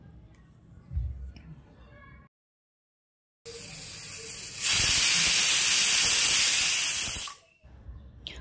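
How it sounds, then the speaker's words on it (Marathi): After quiet rumbling and a brief silence, a pressure cooker cooking wheat kheer lets out a loud, steady hiss of steam with a shrill whistling edge that cuts off abruptly. "3 ते 4 शिट्ट्या आपण कुकरच्या करून घ्यायच्या आहेत"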